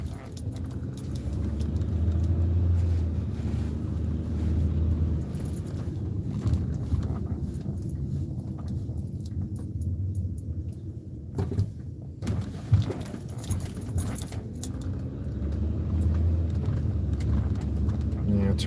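A car cruising along a highway, with a steady low road and engine rumble and light rattles inside the cabin, a person talking intermittently over the drive.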